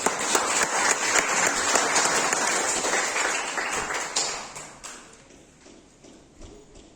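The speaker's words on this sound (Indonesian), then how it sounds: "Tepuk tangan untuk dia." A burst of clapping from a group, lively at first, then thinning out and fading to a few scattered claps.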